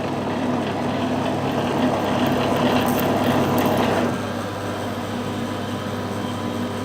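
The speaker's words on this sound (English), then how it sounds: "Wind it in a little bit, reverse the lathe" A metal lathe runs in reverse while cutting an internal Acme thread, giving a steady mechanical whine and hum that eases to a quieter drone partway through.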